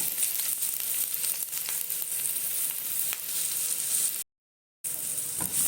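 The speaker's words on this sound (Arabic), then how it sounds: "انا جبت طاسة هحط فيها حبة زيت وهنزل بالبصلاية" Chopped onion hits hot oil in a pan and fries with a steady, close sizzle and crackle. The sound drops out briefly near the end, then resumes.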